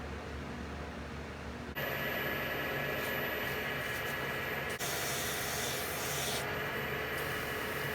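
Steady abrasive rubbing hiss of sanding and polishing a wood-turning piece on a lathe through grits from 120 to 7,000, a continuous broadband noise that grows louder partway through with no pauses.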